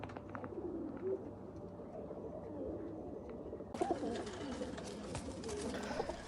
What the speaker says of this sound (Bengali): এখানে যেগুলো দেখছেন এগুলো সব সিঙ্গেল সিঙ্গেল কবুতর